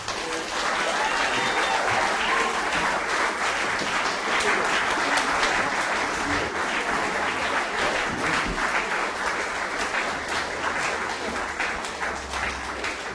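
A large crowd at a Hiroshima Day event claps and cheers steadily and loudly for a speaker, a dense, sustained wash of applause with no talking over it.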